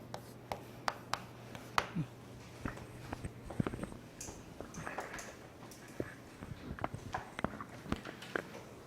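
Chalk or marker writing on a board during a Korean law lecture, with scattered taps and strokes at an uneven rhythm and a low hum underneath.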